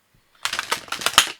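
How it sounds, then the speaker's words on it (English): Sacred Destiny Oracle cards being shuffled: a quick burst of crisp, clattering card riffles and snaps lasting about a second, close and fairly loud, with no talking. "now I'll shuffle some Sacred Destiny Oracle."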